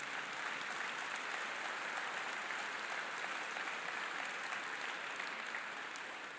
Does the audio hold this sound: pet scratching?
no